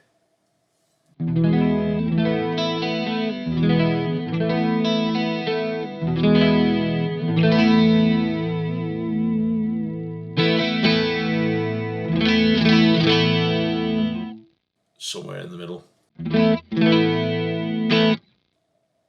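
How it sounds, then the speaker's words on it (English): Electric guitar played through a Boss Super Chorus pedal: shimmering, warbling chords ring out in sustained strummed phrases, then a gap and a few short, clipped bursts near the end, with a brief voice speaking. "So that's your super chorus"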